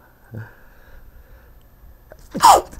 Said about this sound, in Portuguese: Tava louco para espirrar.